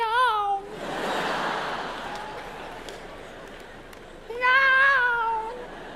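A human voice imitates a cat's meow twice, with a drawn-out mewing call at the start and another near the end, separated by a soft noisy stretch.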